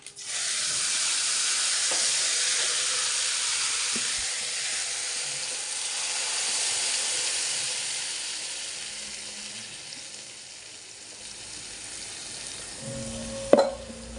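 Spice paste fries in hot oil with curry leaves for paneer curry, giving a loud, steady sizzle and hiss that fades slightly toward the end, with a sharp clatter near the close.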